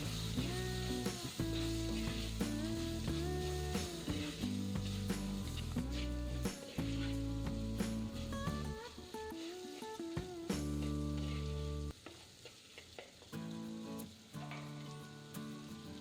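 Sliced onions fry in a pan for Kerala-style chicken mulakittathu curry, a continuous hissing sizzle that runs under fairly loud background music.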